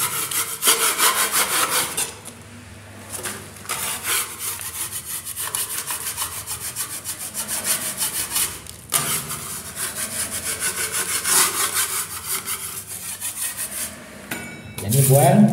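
Loud, rasping scrapes close by as marked lines are scraped off a room wall to recess a black plug box, with repeated back-and-forth strokes broken by short pauses.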